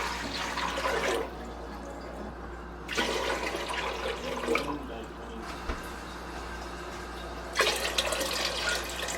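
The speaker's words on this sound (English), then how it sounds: "In the larger sauce pot that I have, I'm adding several quarts of filtered water." Several quarts of filtered water pour into a large sauce pot in a home kitchen, a steady rushing stream in bursts with pauses between, loud and close.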